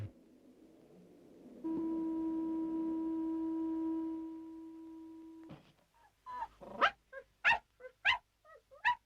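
A cartoon dog barks in a series of sharp, close yips that follow a long, steady foghorn-like drone, with the barks coming in a quick irregular run.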